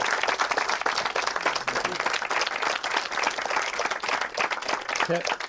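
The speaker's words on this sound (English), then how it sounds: "should we give them a round of applause for that?" An audience at a live interview event with performers from a Wonka show bursts into sustained, dense applause that fills the whole stretch evenly, with a voice faintly heard near the end.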